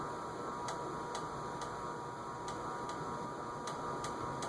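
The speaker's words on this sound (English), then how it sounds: "I wonder what that ticking sound is." A Homestead Geneva ceiling fan runs with a steady whirring hum, and faint regular ticks recur through it about every half second.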